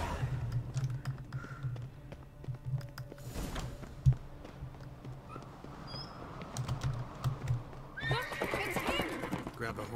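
A horse in The Witcher 3 gives a whinny and clip-clops in-game over a low engine-like hum, with keyboard tapping and a voice speaking at times.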